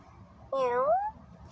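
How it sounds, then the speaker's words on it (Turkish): A cartoon cat meows once from the Toca Life World game, a clear rising-then-falling mew of about half a second standing out above quiet background game sound. "Burada bir bakın kedim bu."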